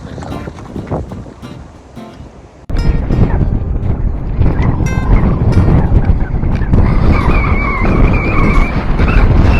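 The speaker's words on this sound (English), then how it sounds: "This wind is something else, I tell you." Very strong wind of around 60-70 mph buffeting the microphone outdoors while lure fishing, with a loud, continuous roar that grows heavier after a brief quieter start.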